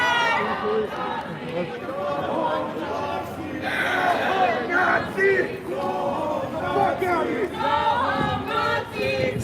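A protest crowd shouts and chants in downtown Portland during a small clash, many loud overlapping voices yelling close by without pause.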